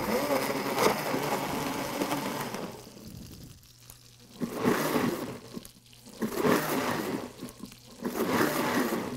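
A blender purees cauliflower with a little liquid, whirring in pulsing surges about every two seconds with watery churning between them. A voice speaks softly in the background.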